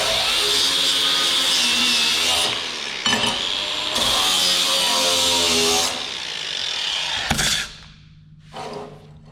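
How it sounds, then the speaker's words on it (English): Power tool grinding and sanding down the center of a small metal auger being fabricated for a drain project, a loud continuous whine with brief cutoffs, ending in a short quieter burst. "Get that center sanded off so I can weld it to my rod."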